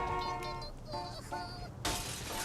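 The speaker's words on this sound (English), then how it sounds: "You just broke your own window." Car window glass shatters in Saints Row: The Third, a sudden bright crash that comes in after a stretch of game engine and ambient sound, close and fairly loud.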